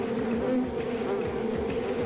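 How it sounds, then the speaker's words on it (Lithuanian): A dense swarm of honeybees drones continuously and close by, a steady, even buzzing with no pauses or voices. "Žinai, čia daug bičių."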